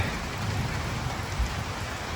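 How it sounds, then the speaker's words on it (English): Steady outdoor rainfall on rural land being readied for deer season, a continuous hiss of drops with a low rumbling bed underneath, even and unbroken throughout. "Rain, baby, rain."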